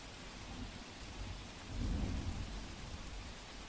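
Steady heavy rain pours down over Ahmedabad with a deep thunder rumble swelling midway, loud and close, no voices.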